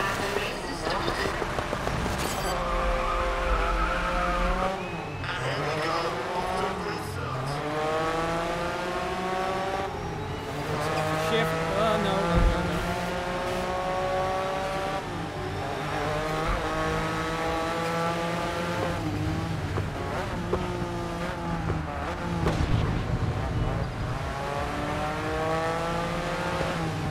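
Race cars compete in the racing video game GRID Legends, engines revving and rising through the gears again and again in a loud, continuous roar with brief tire squeals, while a voice talks over it.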